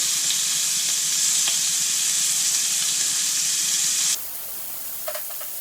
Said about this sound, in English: Sauteed onions.